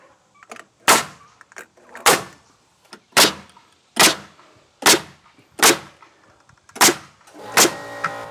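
A pneumatic nail gun drives nails into 2x4s fastened to a header on a stair-building job site: about eight loud, sharp, close bangs at roughly one-second intervals, with faint handling noise between shots.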